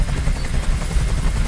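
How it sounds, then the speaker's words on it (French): A helicopter in the video game Detroit: Become Human gives off a steady, loud whirring drone with a low rotor rumble that holds unbroken throughout, with no voices. "Je peux plus supporter ce bruit. Fais dégager cet hélicoptère"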